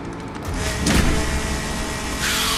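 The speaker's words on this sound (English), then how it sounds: "Just chainsaw it." A chainsaw runs in The Forest on PS5 as a steady, gritty mechanical buzz that swells in the middle and again near the end, with no voices over it.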